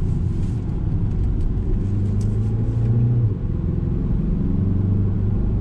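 Engine sound is piped into the cabin of a 2020 Mini Cooper S Clubman while driving, a loud steady low rumble with a gentle rise in pitch, heard alone without talking.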